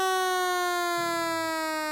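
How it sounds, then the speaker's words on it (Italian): A steady electronic siren wails at a horse racecourse after a race, a loud sustained tone with rich harmonics and a slight pitch drift, holding throughout with a faint low rumble underneath. "suona la sirena comunque"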